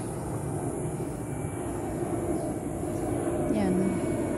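An airplane passes overhead during rain near a flooded house front, a steady, moderately loud engine drone that stays continuous through the whole stretch, with a faint rushing of water underneath.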